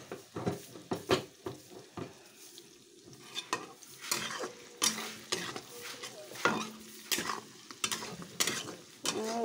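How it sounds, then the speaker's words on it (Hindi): Garlic sizzles and fries in hot oil in a pan for mutton curry, with a steady crackle broken by repeated loud scrapes and clinks of a spoon stirring against the pan. "सो गाइज अहिले लसुन हाल्दैछु हेर्नुहोस् यहाँ छ लसुन"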